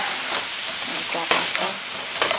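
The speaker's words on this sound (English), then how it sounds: "I'm going to dump the zucchini in there and mix it up really good" Zucchini is dumped into a hot pan for ginger pork chops and stirred, making a constant close sizzle with a sharper splash of sound as the pieces land and a few scraping stirs.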